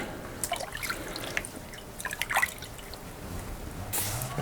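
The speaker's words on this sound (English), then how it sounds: "Quick wash of the hands." Hands being rinsed under running water after throwing pottery, a light trickle and dripping with a few splashes and a louder gush near the end, close and without talk.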